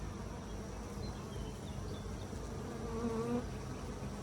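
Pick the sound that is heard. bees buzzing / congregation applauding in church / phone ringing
bees buzzing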